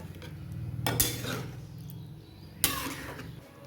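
A spoon scrapes and knocks around a pan of Bengali egg and potato curry, with two sharp metallic clinks standing out amid softer stirring, close and fairly quiet.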